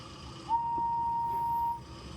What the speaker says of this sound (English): She blew her whistle as loud as she could.